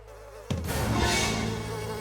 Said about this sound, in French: Nettoyer le nid des abeilles. Ouh, peut-être que les abeilles sont de bonne humeur